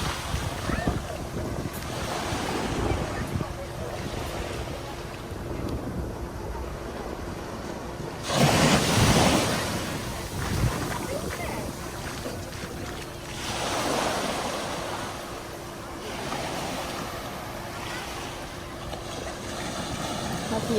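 Sea waves roll onto a beach in Phuket, Thailand, a continuous loud surf roar with swells building and breaking every few seconds, and strong wind buffets the microphone.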